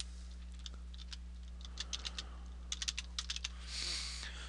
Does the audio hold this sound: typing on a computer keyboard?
yes